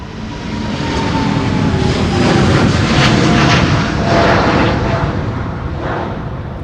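A jet airliner about five years old roars low over the runway at Amsterdam Schiphol airport in gusty crosswinds, a loud, broad rumble that swells to a peak midway and then slowly eases.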